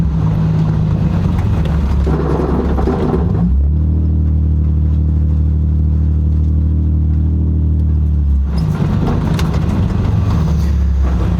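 A Lexus GS300 engine runs loudly and close by, with a deep steady rumble that settles into a smoother idle hum in the middle before roughening again.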